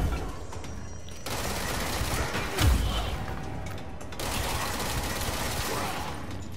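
A weapon firing in the game Control as a sustained burst of rapid shots, with a heavy thump near the middle and more firing afterward, loud and close over background music.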